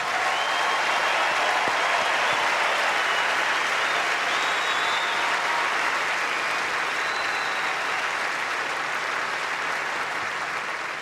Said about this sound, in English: what about a nice warm round of Australia Day applause for our 2 finalists once again